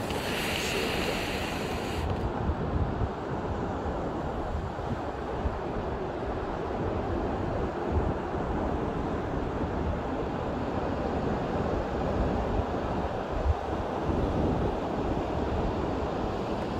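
Ocean surf and wind on New Smyrna Beach, Florida, during a midnight ride on a Razor 750W e-bike: a steady, dense roar of wind buffeting the microphone over the waves, continuous and unbroken, with no talking.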